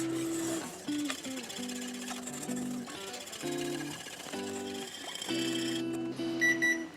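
A kitchen timer goes off during fudge making, sounding a run of repeated electronic beeps in short steady bursts, close and moderately loud.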